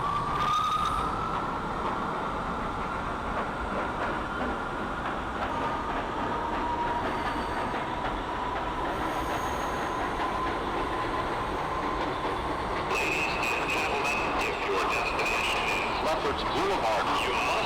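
An R179 New York subway A train running in the OpenBVE simulator, with a continuous loud rumble and whine of motors and wheels that brightens and steps up in pitch partway through.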